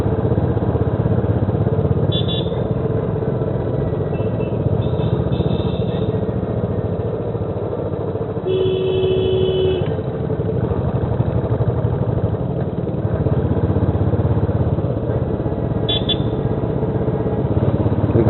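Motorcycles and other vehicles idle and rev on a mountain road on the way to Nathula, a continuous close engine drone that swells now and then with brief higher whines above it.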